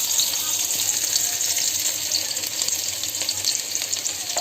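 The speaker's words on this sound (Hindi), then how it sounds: "तेल ला थोड़ा गरम होने देबो संगवारी हो, तब डाल देबो प्याज ला।" Onions frying in hot oil in a home kitchen give a steady, bright, hissing sizzle that holds fairly loud and even throughout, with faint clinks and no talking.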